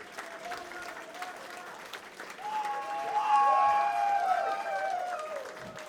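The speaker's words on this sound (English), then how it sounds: "Round of applause for Fancy" An esports crowd at a Team Fortress 2 6v6 LAN grand final in Poland applauds steadily, the clapping swelling midway with whoops and cheers rising over the dense patter, a voice or two audible beneath.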